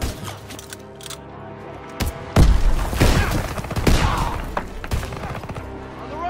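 A grenade blast in Call of Duty: WWII lands as a sharp thud with a crashing burst, set among scattered gunfire and impacts on a battlefield.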